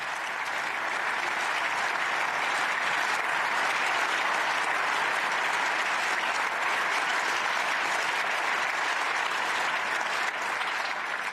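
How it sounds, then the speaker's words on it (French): Sustained, dense applause fills a large parliamentary chamber, the European Parliament, steady and loud throughout without a break, many hands clapping at once with no distinct voices standing out. "Et ces applaudissements"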